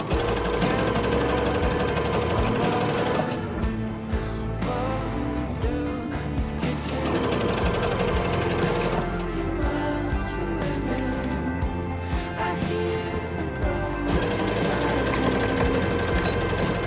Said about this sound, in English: Sew them together using a zigzag stitch with 1 cm seam allowance and then overlook that